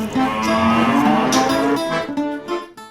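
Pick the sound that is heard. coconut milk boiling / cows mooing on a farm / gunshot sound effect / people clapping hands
cows mooing on a farm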